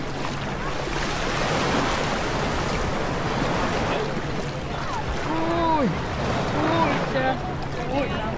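Waves wash steadily onto a stony beach in Cyprus, a broad continuous surf hiss up close, with a few short chirping calls rising over it and a voice talking now and then.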